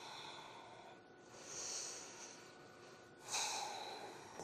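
Slow, deep breaths drawn during a gentle yoga pose, two soft, long airy inhales or exhales heard faintly and close in an otherwise quiet space.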